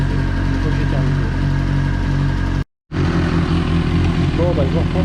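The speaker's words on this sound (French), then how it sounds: "je fais tourner la moto, je fais tourner plusieurs fois avec l'entonnoir" Motorcycle engine running and revving steadily during a coolant purge with a funnel, loud and close, cutting out briefly midway before resuming.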